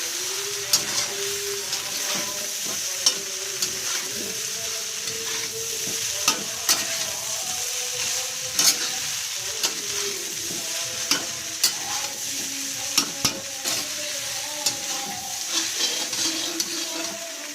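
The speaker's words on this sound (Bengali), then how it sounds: "পাস্তা দিয়ে ভালো করে এটাকে নাড়বো," Boiled pasta stir-fried with spiced vegetables in a pan, a continuous close sizzle broken by frequent clacking spatula strokes and scrapes in an irregular rhythm, with no voices.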